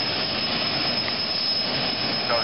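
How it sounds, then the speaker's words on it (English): The Terminal Velocity jet dragster idles at the Auto Club Famoso Racing drag strip, its jet engine giving a steady, loud, roaring whine with a high piercing tone throughout, close and unbroken, with no talk. "So Tony Franco, terminal velocity jet dragster into the stage beam."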